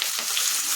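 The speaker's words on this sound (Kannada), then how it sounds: "ಫ್ರೈ ಮಾಡ್ಕೊತಾ ಇದ್ದೀನಿ" Chicken frying in a pan gives a steady, dense hiss of sizzling oil, close and even throughout the brief moment with no breaks.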